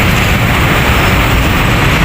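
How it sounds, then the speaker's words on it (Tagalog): An LRT train pulls into a station with a loud, steady roar and rumble that fills the space, with no voices. "nandito na yung train na sasakyan ko."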